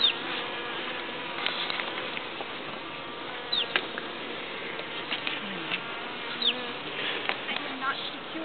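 Honeybees buzz steadily and densely around a hive while they feed on a pollen patty, a continuous close drone with individual bees whining past.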